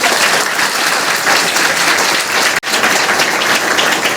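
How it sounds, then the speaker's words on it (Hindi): Loud, dense applause from a school audience at a road-safety awareness event welcoming a police officer guest, continuous and close with a brief cut in the middle. "इनका जोरदार तालियों से स्वागत करें"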